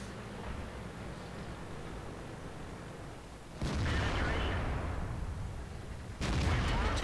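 Tank cannon fire in World of Tanks: two heavy booming shots a few seconds apart, each a sudden loud blast that rolls into a long rumble over steady engine noise.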